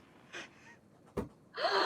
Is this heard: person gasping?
yes